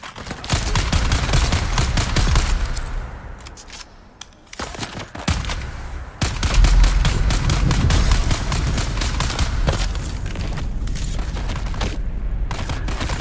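Rapid gunfire from an enemy gunner in the survival MMO Dune: Awakening, sustained bursts of shots with a few brief pauses, loud and close throughout.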